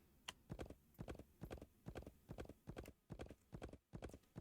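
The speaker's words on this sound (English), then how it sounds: "Right, come on, magic horse." Horse hooves in the video game Wild West Dynasty clip-clop in a steady, even trotting rhythm, about two and a half beats per second, fairly close and alone without talk.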